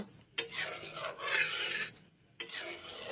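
Mung and masoor dal stirred in a pan with a spoon, giving two long raspy scraping strokes separated by a brief pause, close and fairly loud.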